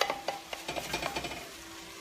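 Chicken, cauliflower and beans cooking in a pan give a steady close sizzle with repeated stirring scrapes and clinks at a brisk, uneven rhythm, with no talking.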